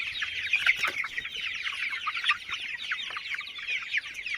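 A flock of chickens and roosters at about 40 days old, a Sonali super hybrid breed, clucking and chattering continuously in a busy poultry shed, with an occasional wing flap.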